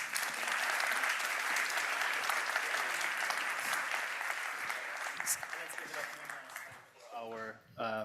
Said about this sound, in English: let's give the panel a final round of applause